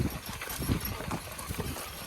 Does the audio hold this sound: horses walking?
yes